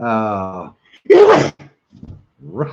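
A person sneezes once, loud and close, in a sharp burst between stretches of casual talk from nearby voices.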